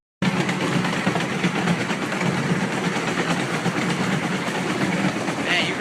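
An amusement park locomotive train ride moving fast, a loud continuous rumbling roar with clattering wheels that starts abruptly and holds steady up close, with no talk.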